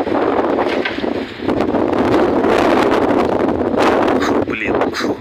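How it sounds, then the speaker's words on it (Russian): Strong wind blasts into the microphone outdoors during pigeon flying, a loud continuous roaring rumble with gusting surges and brief dips throughout. "ветер аж в рот задувает"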